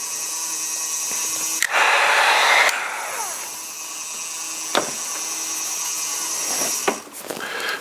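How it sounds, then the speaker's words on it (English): A heat gun drying a thrown pottery piece, a steady, loud blowing whine running throughout, interrupted by a few sharp clicks and knocks and a brief louder burst near the start. "This is the noisy bit, heat gun."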